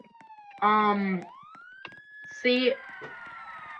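A police siren in a video game sweeps upward and holds a high wail in the background while a person speaks over it in two short bursts.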